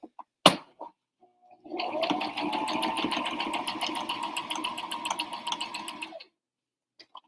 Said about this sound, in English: I'm sewing and I'm using the regular stitch still